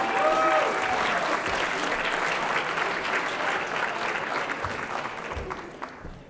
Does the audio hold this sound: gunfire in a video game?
no